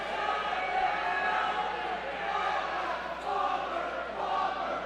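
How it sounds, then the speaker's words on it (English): A home crowd at a high school basketball game, North Medford at Grants Pass, groans and jeers in a sustained, disgruntled roar that fills the gym and holds steady with slight swells. "Home crowd doesn't like it."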